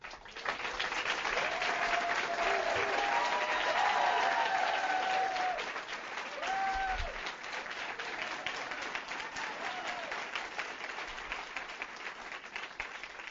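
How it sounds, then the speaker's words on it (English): Audience at a hospital townhall meeting applauds in a full, sustained round of clapping, loud and continuous, with faint tonal sounds and brief voices mixed underneath. "And I think we should all, say a special big round of applause and excitement for Peter, because"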